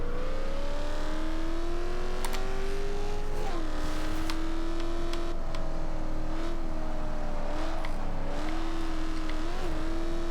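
A 2000 Ford Mustang SVT Cobra R engine drones steadily in Forza Horizon 2, its pitch rising and dipping through shifts and corner exits, with scattered clicks and tire noise over the constant loud motor.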